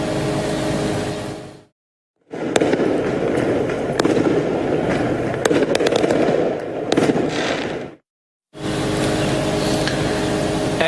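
Fireworks being set off along a street on a summer night, sharp crackling bursts and pops over a dense roar, loud and close, with a couple of abrupt cutoffs breaking the sequence.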